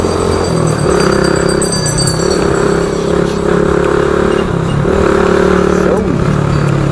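A Suzuki Smash 115 motorcycle engine idling and revving in steady pulses, close and loud, with a rider's voice partly audible over it.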